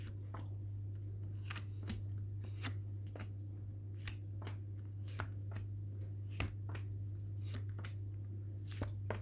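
Tarot cards being shuffled and dealt for a reading, a run of soft crisp flicks and slaps spaced every second or so over a steady low electrical hum, with no talking.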